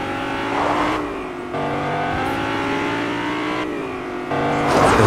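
A car engine drones steadily in the Fortnite video game, its pitch holding with small shifts, loud and close through the whole stretch with no talk over it.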